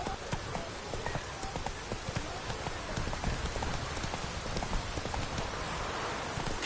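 Roach the horse gallops in The Witcher: Wild Hunt, with rapid clip-clop hoofbeats over a dense rain-like wash of noise, steady and fairly loud throughout.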